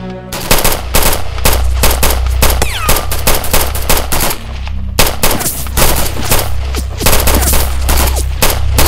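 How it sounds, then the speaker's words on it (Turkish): Loud, close automatic gunfire from an armed clash in a Turkish TV drama, with rapid bursts of machine-gun shots rattling almost continuously and only a brief lull partway through. "Yukarılarda çatışma vardır herhalde."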